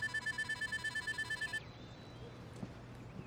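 An old-style telephone bell rings in rapid repeated bursts for about a second and a half, then cuts off, leaving quiet room tone with faint shuffling.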